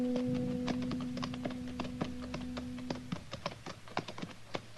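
Horse hooves clip-clop in a steady walking rhythm as a radio drama sound effect for riders coming up a nearly deserted Western main street, crisp close taps over a low held tone that fades partway through.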